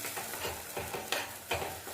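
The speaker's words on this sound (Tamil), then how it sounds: "ஒரு நிமிஷம் அந்த எண்ணெயில் லைட்டாக வதக்கிக்கோங்க." Ground ginger masala paste being sautéed in oil over low flame with a soft sizzle, spatula scrapes recurring every half second or so, close and moderately quiet.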